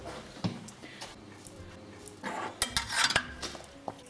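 Aubergine, butternut squash and chickpea curry being dished up, with close clinks and scrapes of a spoon against pots and plates, sparse at first, then busier and louder toward the end.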